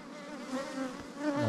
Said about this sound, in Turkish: Oğula giden arı.